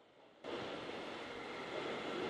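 A subway train rumbles steadily through a metro station at Fulton Street in The Darkness, a broadband roar that swells in abruptly and then holds loud and close.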